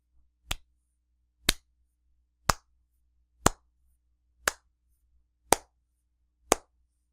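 A single person gives a slow clap: seven sharp, isolated hand claps, evenly spaced about one second apart, with near-silence between them.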